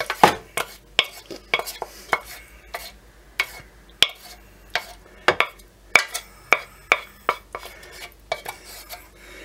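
A spoon or spatula spreads cauliflower cheese sauce across a baking dish, producing a series of sharp clinks and scrapes against the dish at an irregular rhythm, close and fairly loud.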